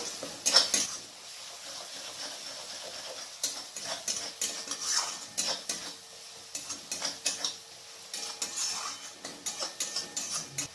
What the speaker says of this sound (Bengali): রসুনটাকে এখানে ভালো করে আমি ভেজে নেব